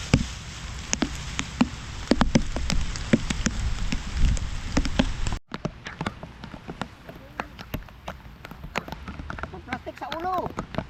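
Rain pours down in a steady patter at first, then after an abrupt break lighter drops fall with scattered taps, while people talk nearby.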